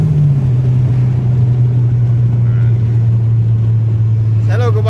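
Engine of a turbocharged Chevrolet Corsa drones steadily at close range, its pitch sagging slightly then holding, with a brief turbo whoosh at the end and faint voices in the background.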